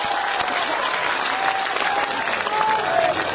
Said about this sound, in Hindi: एक बार दोनों हाथ खड़े करके जोरदार ताली बजाकर मुझे हुक्म दे